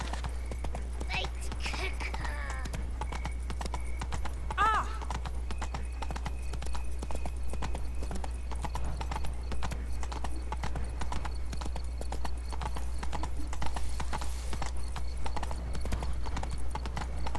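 Roach, the horse in The Witcher 3, gallops with a continuous rhythmic clip-clop of hooves and an occasional whinny over steady low background hum, with faint voices in places.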